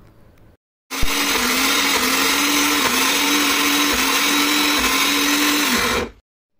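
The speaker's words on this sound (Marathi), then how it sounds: "मी या डाळींना आता मिक्सरमध्ये दळून घेतलं आहे" A kitchen mixer grinder whirs loudly as it grinds soaked mixed lentils with green chilies, garlic cloves and ginger without water. The motor starts abruptly, runs at a steady high-pitched whine for about five seconds, then stops.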